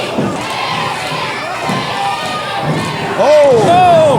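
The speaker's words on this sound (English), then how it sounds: "Listen to this crowd" Capacity crowd at a live pro wrestling event roaring and cheering, with shouts and whistles rising over a steady loud din; a sharp jump in volume near the end as the noise swells.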